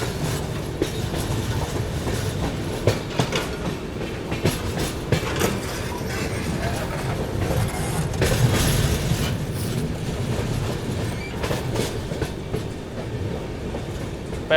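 Delhi to Yeswanthpur Duronto Express running through a curve, a steady loud rumble of wagons with rhythmic clickety-clack from the wheels and faint metallic squeal, continuous for the whole stretch with no talking.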